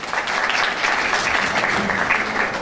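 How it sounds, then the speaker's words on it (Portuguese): Dense, even applause from an audience at a poetry event, many hands clapping continuously and close by, with no pause in the sound. "Uma salva de palmas."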